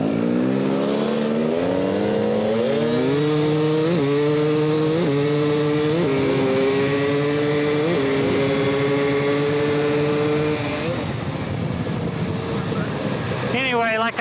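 A 2018 KTM 250 XC-W TPI two-stroke dirt bike revs and climbs through gears with a loud, buzzing, rising engine note. A voice talks over the engine throughout.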